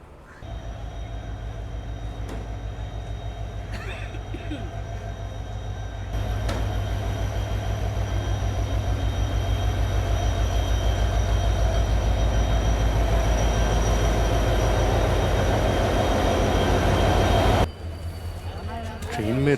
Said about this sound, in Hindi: चलो फाइनली अपनी ट्रेन का अराइवल हो रहा है, और ICF कोचेस के साथ।